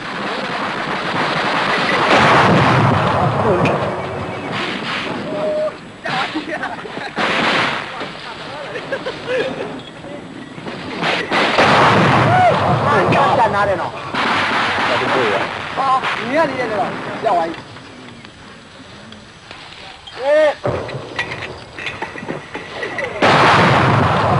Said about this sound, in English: As suddenly as it began, the barrage ceases.